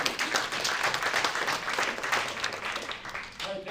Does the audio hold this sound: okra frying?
no